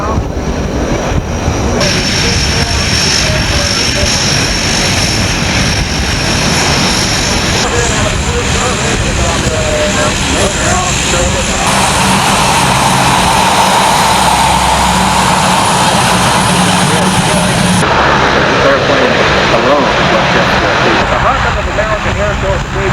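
A C-130 Hercules military transport roars overhead at an air show, its propeller engines producing a loud, continuous droning rumble that fills the whole stretch, with a voice talking over it.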